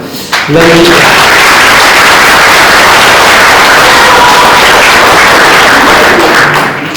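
Loud, dense audience applause fills a municipal New Year's greetings ceremony in Charleval, beginning abruptly after a brief spoken moment and holding as a steady roar of many hands throughout.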